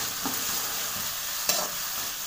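Ginger garlic paste sautéing in a pan for a vegetable kurma, a steady, close hiss of sizzling oil with a couple of soft stirring scrapes.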